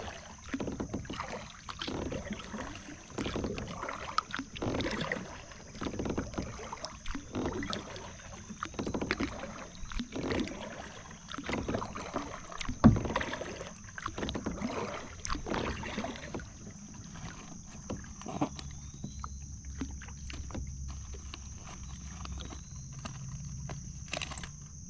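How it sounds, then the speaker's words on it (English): A kayak is paddled along the Terrapin Branch at Trap Pond State Park in Delaware, with rhythmic paddle strokes and water swishes repeating every second or so. A steady high insect-like tone hums behind them, and nobody talks. "Kayaking the Terrapin Branch at Trap Pond State Park."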